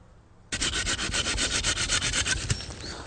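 Knife or blade shaving a section of wood flat for a bushcraft pot hook outdoors, a sudden start into a fast series of close rasping strokes lasting under three seconds.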